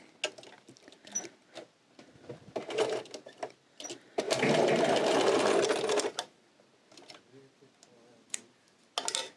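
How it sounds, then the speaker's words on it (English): A sewing machine stitching across a small fabric loop for a coin purse, short rattling runs of stitches, then a longer continuous burst of fast needle clatter, followed by more brief stop-start stitching. "So that's just a little loop that we create. I'll stitch across it."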